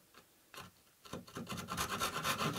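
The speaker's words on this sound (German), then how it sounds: "Das ist ja eine Zugsäge, das heißt, wenn ich ziehe, sägt die." A Japanese-style pull saw cuts through wood outdoors while rigging a canoe camera mount, starting with a few separate rasping strokes and building into steady, fairly close back-and-forth sawing toward the end.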